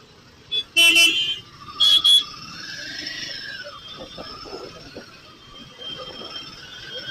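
Car horn honking in Hyderabad traffic: a quick toot, then a longer blast and two short honks close by, followed by steady traffic rumble with a rising engine whine.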